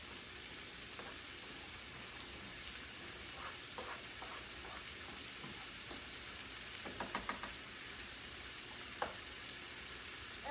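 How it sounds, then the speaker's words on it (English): Rice with broccoli and cauliflower simmers in a skillet, a soft continuous sizzle and bubbling hiss with a few faint scraping stirs and light clinks, quiet and close. "I'll stir my rice."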